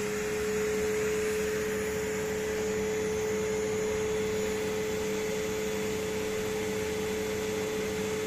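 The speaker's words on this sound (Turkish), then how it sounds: "elektrikli süpürgemizi çalıştırıyoruz" Household electric vacuum cleaner running on its minimum power setting, a loud, steady motor hum and airy whoosh that holds constant throughout with no talk.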